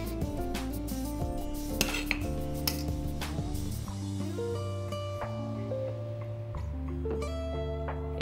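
Sichuan chicken ragout with bamboo shoots is spooned onto rice noodles in a kitchen, with repeated close clinks and scrapes of a spoon against a pot and dish, and light tapping throughout.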